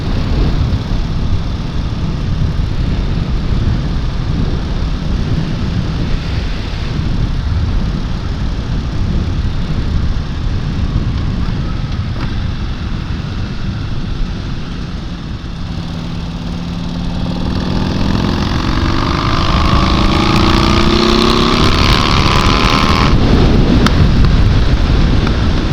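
A Buell 1050 motorcycle is ridden on roads around Smyrna, Tennessee. Its steady engine drone sits under heavy wind rush, and the revs climb audibly toward the end.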